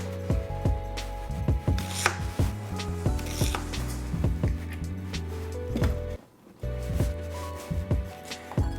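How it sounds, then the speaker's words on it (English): Rapid, rhythmic knife chops through parsley and onion on a cutting board, close and crisp, with a brief pause midway before chopping resumes. "I'm chopping it to small pieces and I'm putting it in a mixer"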